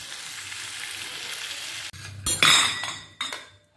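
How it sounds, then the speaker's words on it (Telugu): Butter frying in hot oil for noodle fried rice: a steady close sizzle fills the first two seconds, then a louder burst of crackling and spatter with a few clinks of a utensil against the pan. "నూనె కొంచెం వేడెక్కిన తర్వాత బటర్ వేసుకోవాలి, ఒక టీ స్పూన్ బటర్ వేసుకోండి."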